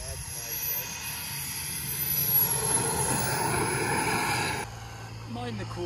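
Grumman Panther F9F RC model with a diesel-fuelled turbine jet engine, a steady broadband whine and roar close by that swells midway, then drops away as it cuts off, with people talking over it.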